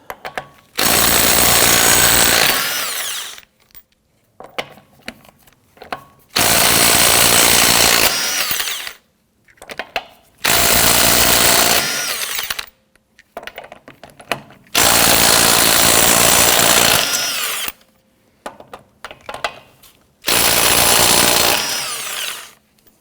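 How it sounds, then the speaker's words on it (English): Loud bursts from an impact wrench driving a 21mm socket against the lug nuts of a Hyundai Elantra rear wheel, several long rattling runs separated by short silences. "Using a 21mm socket, loosen and remove your lug nuts."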